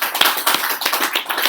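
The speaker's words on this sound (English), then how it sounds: "So I want to go ahead and give a round of applause for the guys" Tech conference audience claps briefly for the event organizers, a short burst of scattered hand claps with distinct individual slaps, moderately close.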